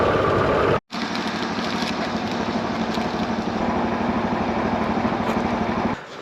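Motorcycle engine running steadily and close by on a long-distance ride to Nordkapp, a continuous droning rumble with a brief cutout near the start.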